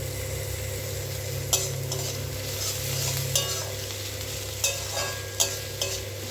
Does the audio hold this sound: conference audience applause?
no